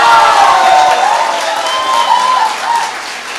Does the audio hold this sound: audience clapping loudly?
yes